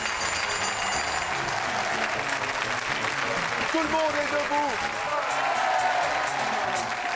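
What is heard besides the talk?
studio audience applauding and cheering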